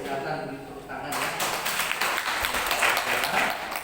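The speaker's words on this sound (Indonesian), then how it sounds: "silakan beri tepuk tangan ya" A church congregation at a Sunday service applauds newcomers, clapping rising from quiet into a steady, fairly close wash of hand claps that holds to the end.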